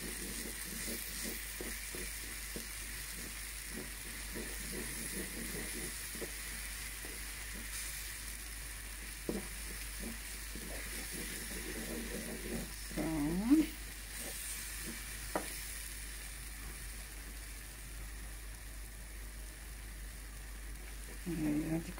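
Vegan scrambled egg made from egg-substitute powder fries quietly in a pan, a low steady sizzle with occasional scrapes and stirring clicks over about twenty seconds, no talking.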